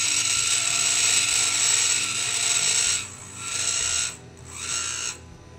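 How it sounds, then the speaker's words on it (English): A large dental burr in a handpiece grinds index holes into a stone diagnostic cast, a steady high-pitched whir with a buzzing, ratchety texture that drops out in short gaps near the end as it bites in three separate spots. "You can do that just using this large burr. You put three of them."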